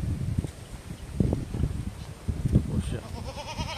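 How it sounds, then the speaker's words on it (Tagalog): Newly bought goats on a farm bleat several times in short, wavering calls amid rustling and shuffling, with a faint voice nearby near the end. "kambing na po yung nabili ko sa kanila."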